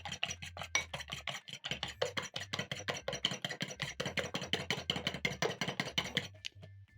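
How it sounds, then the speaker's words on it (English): Two eggs beaten in a bowl with steady, fast whisk strokes, a dense run of crisp scraping ticks at close range that stops abruptly near the end, with no talking. "I'm going to crack in 2 eggs in a bowl. Whisk in the eggs."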